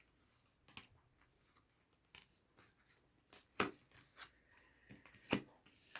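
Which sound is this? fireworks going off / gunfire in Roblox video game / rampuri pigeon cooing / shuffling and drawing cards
shuffling and drawing cards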